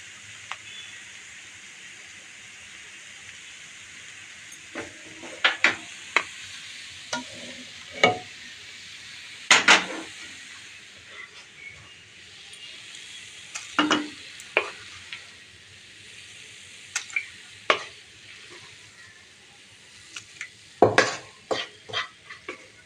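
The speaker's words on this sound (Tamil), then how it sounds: "நல்லா வதக்குனதுக்கப்புறம் நம்ம பருப்பில் சேர்த்துருவோம் இதை" Sautéed cabbage is stirred into cooked dal for sambar in a pot, with a soft steady simmer hiss under a string of sharp spoon scrapes and clinks spaced irregularly throughout.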